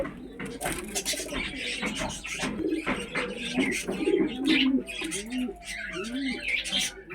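A pair of Lotan pigeons, one white and one black, coo in soft repeated rolling phrases close by, the calls overlapping steadily throughout.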